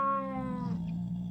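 A cat in a Minecraft horror map gives one drawn-out, whining meow that slides downward and fades into a low tail, heard close and clear with no talking over it.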